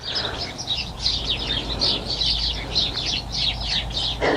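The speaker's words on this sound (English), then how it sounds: "I love hearing the birds." Outdoor birdsong, with continuous chirps and trills at moderate distance over a soft background hum.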